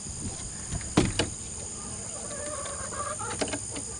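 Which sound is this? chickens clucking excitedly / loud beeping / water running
chickens clucking excitedly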